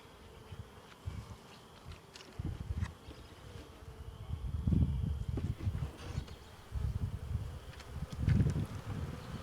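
Honey bees buzzing around a hive in early spring, soft swelling hums that rise and fall as individual bees pass close, with faint rustling in the background.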